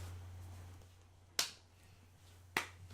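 Two sharp finger snaps about a second apart, crisp and close, standing alone over a low steady hum in a quiet room.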